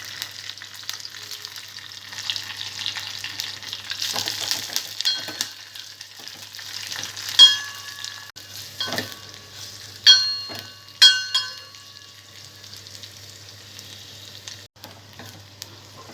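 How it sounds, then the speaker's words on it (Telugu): Green chilies, dried red chilies, curry leaves and onion slices fry in hot oil for a rasam tempering, giving a steady close sizzle with occasional spatter pops and a few sharper clinks and spikes of stirring, with no talking. "పచ్చిమిరపకాయ, ఎండుమిర్చి, కరివేపాకు, ఉల్లిపాయ ముక్కలు వేసుకోవాలి."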